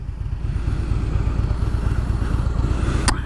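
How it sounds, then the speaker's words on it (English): A 2017 Fat Boy S motorcycle engine idles steadily with a deep, throbbing low rumble throughout, close by and fairly loud, with a brief sharp click near the end. "See that exhaust? You can kind of hear it,"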